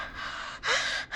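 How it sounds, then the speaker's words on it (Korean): A caller breathes heavily over the phone in the video game Killer Frequency: a long hissing exhale, then a sharp, louder gasping breath, close and alone with no talking. "누구 숨소리야?"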